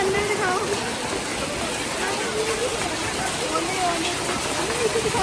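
Heavy rain and hail pour down in Nainital with a dense, steady hiss of falling water close by, while a voice speaks faintly underneath.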